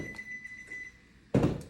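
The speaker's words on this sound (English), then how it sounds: "What you just heard was my oven." A faint steady beep tone from an oven under low background noise, then a sudden dull thunk near the end.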